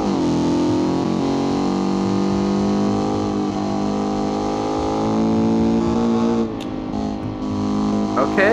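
A sports car in BeamNG, a driving game, runs on motorcycle-size wheels and holds a loud, steady engine drone with rich harmonics. The pitch shifts slightly near the end.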